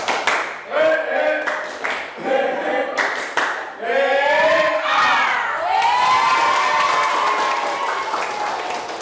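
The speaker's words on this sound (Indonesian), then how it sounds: "Tepuk semangat." A classroom of schoolchildren does a rhythmic spirit clap, patterned bursts of clapping that break into loud group cheering and shouting, with excited young voices near and crowded throughout.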